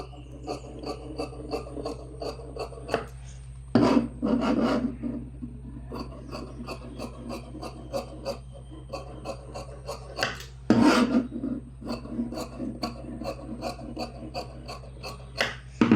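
Lining fabric pieces being cut produce repeated close rasping, scraping strokes with two louder, longer bursts, steady and without talk.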